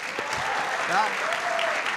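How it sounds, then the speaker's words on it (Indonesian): A studio audience on a Tonight Show talk show breaks into steady, dense applause for Iko, a continuous even wash of clapping throughout. "Ya tepuk tangan untuk Iko."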